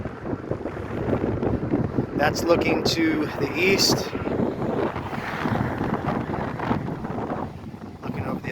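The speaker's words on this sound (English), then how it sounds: "Again, I'm sorry for the wind." Strong wind roars and buffets against the microphone without letup on a bridge along the Mountains to Sea Trail, while someone speaks briefly over the rumble.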